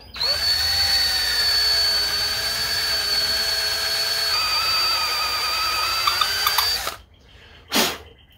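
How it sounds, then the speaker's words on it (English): A power drill whines steadily at high speed for several seconds drilling into a carburetor, its pitch dipping partway through, then stops, followed by a brief short burst. "So let me drill her out."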